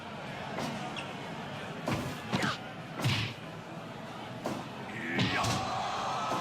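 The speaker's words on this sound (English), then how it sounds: "lifting nearly 300 pounds over his head and press slamming her" A wrestler lifting an opponent of nearly 300 pounds overhead and press slamming her to the mat at a pro wrestling event, with several sharp thuds and slaps spread over crowd and arena noise and commentary.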